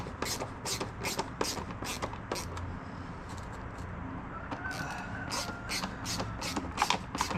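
A driver turning T20 screws while installing a snorkel on a 2023 Can-Am Outlander 700 Max XT ATV: quiet, irregular clicking and ratcheting ticks over a low background rumble.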